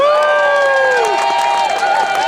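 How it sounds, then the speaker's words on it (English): A crowd at a vigil at the California State Capitol cheers and applauds: loud whoops and sliding shouts ride over continuous clapping throughout the short burst. "can we give ourselves a round of applause"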